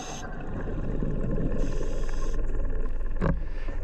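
A muffled, constant boat engine drone with a low rumble and a high whine, heard underwater by a scuba diver below the boat, with a brief clunk near the end.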